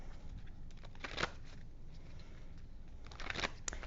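A deck of tarot cards is shuffled, soft papery riffles and slides in a few scattered bursts over a quiet background, close and fairly faint.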